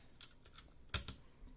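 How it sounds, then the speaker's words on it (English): Keystrokes on a mechanical keyboard with rubber O-rings fitted over the keycap stems, a few soft, damped clicks with one sharper louder press, close and alone. "I slipped the O-ring over the stem of the keycap, and I'm gonna try them out now."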